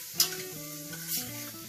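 Tomatoes and turmeric powder sizzle softly in a hot pan while being stirred, with a brief scrape near the start and a low, steady frying hiss throughout.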